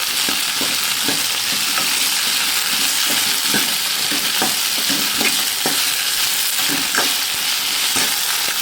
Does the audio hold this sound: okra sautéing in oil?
yes